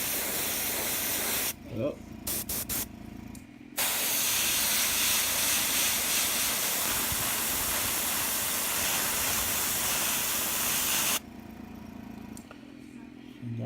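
Bursts of aerosol spray paint dust a model with pale gray paint, a close, loud hiss broken by short pauses and one long steady spray, with a brief exclamation at the start.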